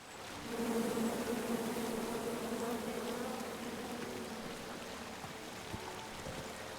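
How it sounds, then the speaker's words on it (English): A swarm of angry bees in the King's Quest video game buzzes in a dense, continuous drone that swells in quickly, stays loud and then eases slightly, heard alone with no voices. "Come at me, bees!"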